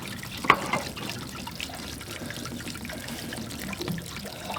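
Water trickling from a faucet opened to relieve pressure in a water system being winterized, a faint steady dribble with a small splash near the start.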